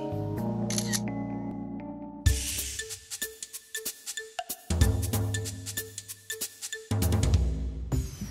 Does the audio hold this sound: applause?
no